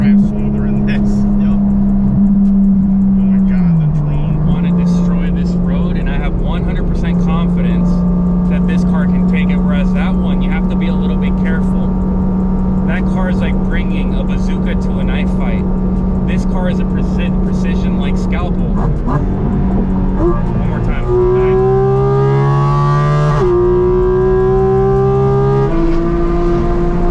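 A Porsche GT4RS Weissach with its GT3-derived engine drones steadily and loudly while driving, a sustained low hum that later climbs and shifts pitch as the revs rise, with a voice speaking over it.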